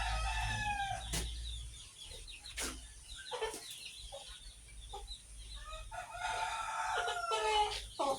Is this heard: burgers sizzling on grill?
no